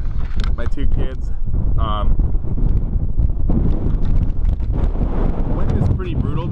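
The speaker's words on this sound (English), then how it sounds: "Wind is pretty brutal today, so I don't know how good the audio is going to be." Strong wind buffets the microphone out on a frozen lake during ice fishing, a constant loud low roar with gusty surges throughout, while people talk over it.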